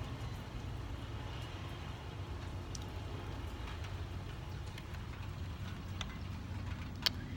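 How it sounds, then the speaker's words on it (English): Soft, steady rain hisses in the distance, faint and even, with an occasional sharper drip breaking through. "It's raining."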